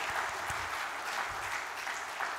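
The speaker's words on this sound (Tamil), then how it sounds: "கண்டிப்பாக நான் இங்கேருந்து கைத்தட்டுவேன்." An audience claps at a community annual event, a dense, steady wash of applause running the whole time with no pauses.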